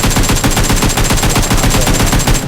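Loud, rapid automatic gunfire from a video game rattles in continuous bursts of tightly spaced shots for the whole stretch, with no voices over it.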